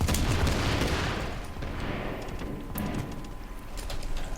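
Gunfire in The Division video game, bursts of rapid shots from several weapons overlapping into a dense, loud crackle with scattered sharper cracks, constant throughout.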